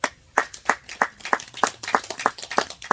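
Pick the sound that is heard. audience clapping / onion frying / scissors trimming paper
audience clapping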